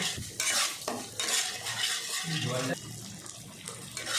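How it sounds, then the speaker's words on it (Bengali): Garlic and ginger paste masala for a prawn dish sautés in a pan with a loud, close sizzle, while a spoon stirs and scrapes through it in uneven strokes. "রসুন বাটা আর দেব আদা বাটা আবারও আমি মশলাটাকে ভালো করে একটু কষিয়ে নেব"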